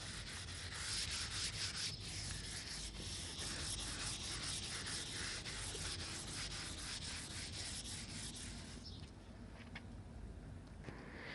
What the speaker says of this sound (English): We're going to be rubbing it off with wire wool until we get it totally smooth